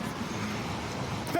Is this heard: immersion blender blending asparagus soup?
no